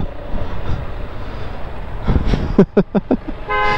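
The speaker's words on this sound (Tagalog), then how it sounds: "Galing ng busina niya guys." A vehicle horn in fiesta traffic downtown near Santo Niño Church gives four quick honks and then a longer sustained tone, loud and close over a rumbling street background.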